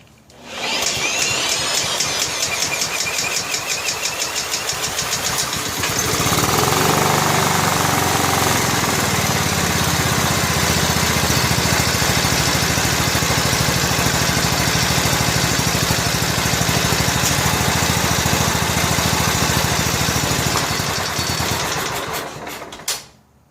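A John Deere STX38 lawn tractor engine with a backfiring fault cranks with a rapid chatter for several seconds, then catches and runs loud and steady for about fifteen seconds before cutting out.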